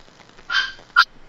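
A pet dog barks twice indoors, a longer bark followed by a sharper short one, fairly close and clear against a quiet room.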